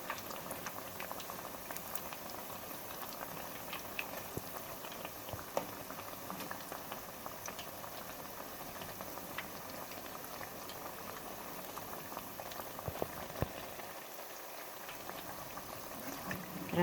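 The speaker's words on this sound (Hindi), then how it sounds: "तो देखिए हमारे पकौड़े कितनी अच्छी तरह फ्राई हो रहे हैं।" Mayo pakoras deep frying in hot oil, a continuous soft bubbling and crackling patter that stays even and fairly quiet throughout, with no voices.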